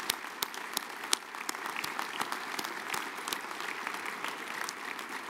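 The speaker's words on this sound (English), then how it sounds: "Can we give them a quick round of applause?" Steady applause from a convention audience at an award presentation, many hands clapping continuously at moderate distance for several seconds with no voices over it.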